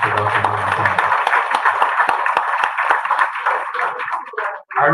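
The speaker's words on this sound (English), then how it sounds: "Let's give a big round of applause again for Dr." An audience at a distinguished lecture series gives a lecturer a steady round of clapping, dense and fairly close, lasting several seconds before trailing off, with a voice briefly audible at the start.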